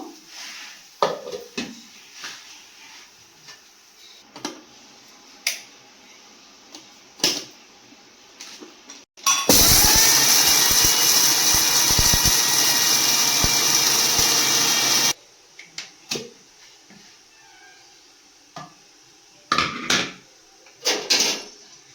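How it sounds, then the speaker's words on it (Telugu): An electric mixer grinder whirs loudly for about six seconds while grinding onion and jaggery chutney. Clanks and taps of kitchen utensils come before and after it. "మిక్సీ పట్టేసుకుందాము"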